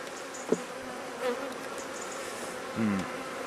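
Honey bees buzz steadily around an open beehive during an inspection, with comb built on top of the queen excluder. The close, continuous drone rises in pitch with a few louder passes near the listener.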